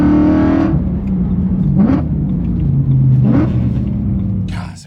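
A BMW E92 M3 with a loud exhaust gives a deep, steady engine rumble throughout, with a couple of brief rising revs and a trailing fade at the end.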